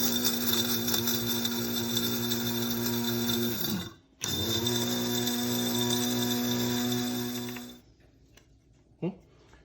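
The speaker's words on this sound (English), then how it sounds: "Let's grind them up real quick." An electric spice grinder whirs steadily for nearly four seconds, stops briefly, then runs again for about four seconds, with a brief clunk near the end.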